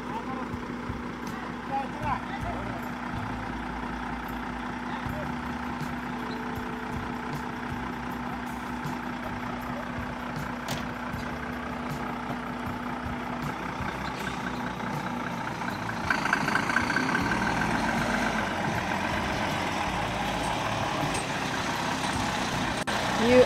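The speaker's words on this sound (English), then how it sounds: "we heard the truck arriving" A truck delivering compost rumbles steadily at a distance and grows louder near the end as it arrives, with people talking over it.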